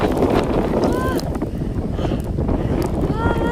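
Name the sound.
wind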